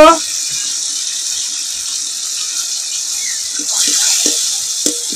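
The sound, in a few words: mashed spiced potatoes added to hot oil, frying and stirring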